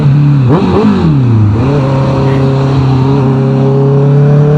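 Honda CB650R motorcycle on a highway ride in Batangas, throttle opened hard: the engine note climbs in pitch through a shift, then settles into a strong, steady high drone, loud and close over wind rush.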